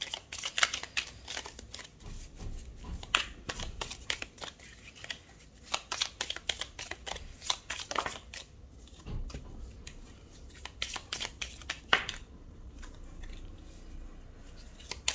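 Tarot cards are shuffled and drawn close by in a quiet room, giving a long run of soft riffling flicks and light taps that fall still near the end.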